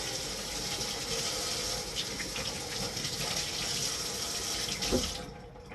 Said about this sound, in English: I gotta rinse this off before it gets all dried.